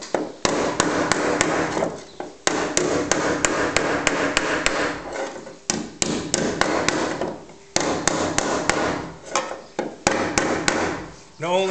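Repeated hammer blows straightening sheet-metal edges on the underside of a Triumph Stag during prep work, sharp metallic strikes landing in quick bursts separated by short pauses, loud and close.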